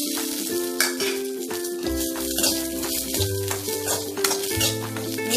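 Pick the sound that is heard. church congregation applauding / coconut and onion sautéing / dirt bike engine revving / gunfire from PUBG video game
coconut and onion sautéing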